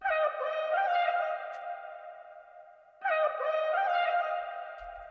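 Sung vocal phrases processed with a heavy reverb effect, two sustained harmonic notes with a lingering wet tail, the first fading out before the second enters at full level; no talking.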